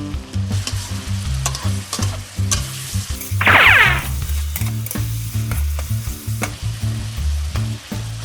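Minced pork stir-fried with holy basil and eggplant for pad kaprao sizzles steadily in a hot pan, with repeated scraping strokes of a spatula keeping a busy rhythm and one brief louder hiss midway.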